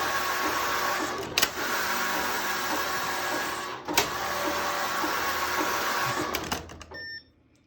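Passap E8000 electronic knitting machine knitting a tubular hem on a blanket, a steady mechanical whirring drone with a few sharp clacks as the carriage reverses, then a short series of electronic beeps as it stops.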